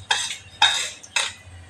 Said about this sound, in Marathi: मसाला असा मी कालवून घेणार आहे. मी यामध्ये मध्ये असं तेल ओतायचं